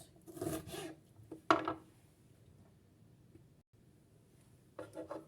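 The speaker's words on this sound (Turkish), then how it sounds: "biberimizi de olabildiğince ince kesiyoruz" A knife slicing bell pepper thinly on a board, a few short crisp cutting rasps and taps close by, separated by quiet pauses.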